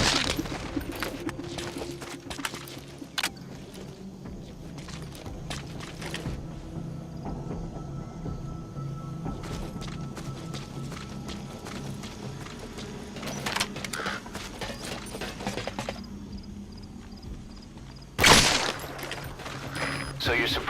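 Gunfire in Metal Gear Solid V: The Phantom Pain, scattered bursts and single shots crackling over a steady game background, fairly faint and distant, with one louder blast near the end.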